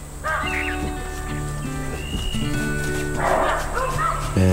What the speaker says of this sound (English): the baboons, who weren't far away, picked up on it and started calling and barking as well